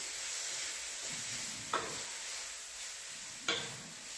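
Noodles stir-fried in a pan for a watermelon stir fry, a steady soft hiss with two brief tool clicks against the pan.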